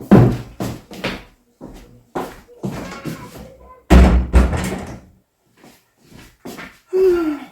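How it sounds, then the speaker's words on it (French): A door or window is pushed shut in a home, with several knocking thuds and bangs spread through the clip, close and fairly loud. "Je vais fermer la porte."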